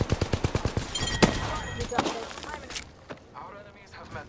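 In an Apex Legends match, a rapid burst of about eight evenly spaced automatic shots rings out up close. Scattered impacts and game sounds follow, along with brief talk as the fire dies down.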